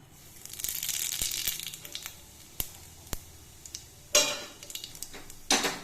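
A pinch of radhuni spice fried in about a spoonful of oil in a pan, with loud scraping and clinking of a utensil against the pan, a soft sizzle underneath, and two sharp bursts near the end.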